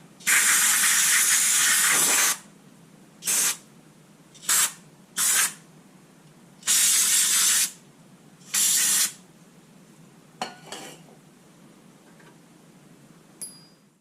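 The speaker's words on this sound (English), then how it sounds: "A little more spray." Several bursts of aerosol spray hissing on a 1958 Ford Edsel, one long blast followed by shorter sprays, close and loud with quiet gaps and faint clicks between.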